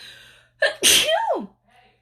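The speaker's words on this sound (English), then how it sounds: "I'm gonna sneeze here in just a minute." A single loud sneeze with a sharp intake before it and a brief falling vocal tail, followed by near silence.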